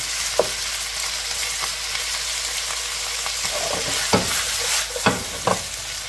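Chinese broccoli being stir-fried with beef in a pan for chow fun, a steady hiss of sizzling under sharp, irregular scrapes and knocks of the spatula.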